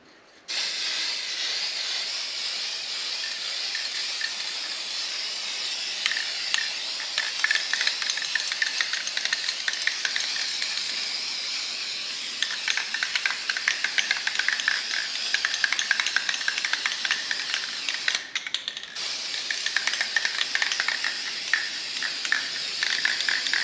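Spray paint hisses steadily from a can as a coat goes onto EVO 8 engine components, a continuous close airy spray with slight flutter from sweeping passes and one brief break near the end.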